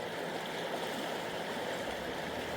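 Creek water flows steadily nearby at a gold prospecting spot in Pennsylvania, a constant broadband rushing and gurgling wash with no voices.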